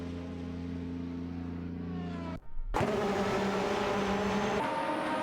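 Engine roar from a video-game race between a Lotus 100T and a Benetton B188: a steady whine cuts out briefly, then returns louder and higher with a passing, revving character, no talking.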